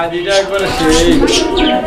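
A pair of red pigeons in a pigeon collection coos in soft, throaty bursts nearby, with people talking over the birds.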